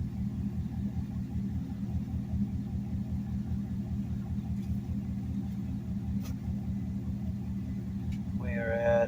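A Chevy with a 4L60E/700R4 automatic transmission idling, a quiet, steady low engine rumble that runs throughout, with a voice speaking faintly near the end.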